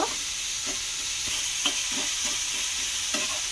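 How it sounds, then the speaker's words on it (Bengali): Chicken momo filling sizzles steadily in a frying pan while a spoon scrapes and stirs it in soft, regular strokes, close and moderately quiet. "এদিকে কিন্তু চিকেনটা অনেকটাই হয়ে এসেছে আর একটুখানি নাড়াচাড়া করে নেব"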